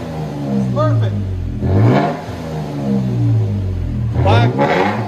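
A 2020 Toyota Tacoma TRD Pro 4x4 with a 3.5L V6, manual gearbox and Black Widow Widowmaker exhaust revs hard and loud, with repeated rising and falling engine sweeps and a deep exhaust rumble throughout.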